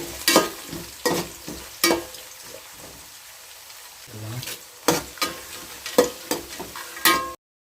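Ingredients for a village-style country chicken curry are sautéed in a pan under a soft sizzle, punctuated by sharp, irregular scrapes and knocks of a stirring spoon close by.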